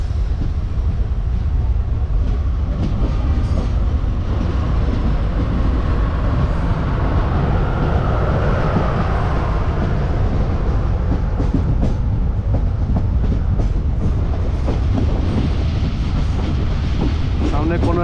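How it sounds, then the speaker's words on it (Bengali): Local passenger train 55752 on the Haldibari to New Jalpaiguri run pulls away and rolls along the tracks, a loud, steady rumble with rhythmic wheel clatter running unbroken throughout. "আমাদের ট্রেনটাও ছাড়লো"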